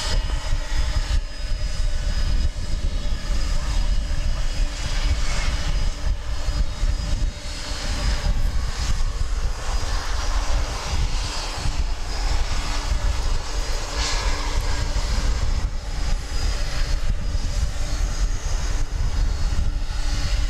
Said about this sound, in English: Let's see if this plane is going to go out on 18 left